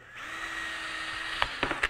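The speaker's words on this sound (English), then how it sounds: "I'm going to go ahead and drill that hole" Power drill boring a hole through a Kydex sheet for a one-piece holster, a steady whining motor run for over a second followed by a few short sharp bursts as the bit breaks through, close and alone.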